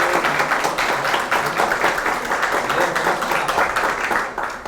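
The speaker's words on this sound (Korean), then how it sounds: "우리 박수 한번 칩시다." An audience at a lecture event breaks into applause, a dense continuous roar of many clapping hands at close range, steady and loud for the whole stretch with no voices standing out.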